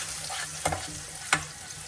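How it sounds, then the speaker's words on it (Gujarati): Asafoetida added to hot oil gives a close, steady sizzle with two brief stirring knocks against the pan, and no voices. "થોડુંક મારે હિંગ ભૂલી ગઈ હતી નાખવાની, પાછી તેલ છે એટલે નાખી દઉં છું."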